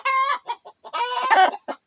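An aggressive rooster clucks and squawks up close in quick, throaty bursts, loud and clear with short gaps between calls.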